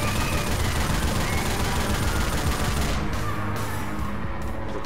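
A mounted 50 cal machine gun fires in Left 4 Dead 2, a dense, loud, continuous burst of rapid shots that cuts off near the end, with no talk.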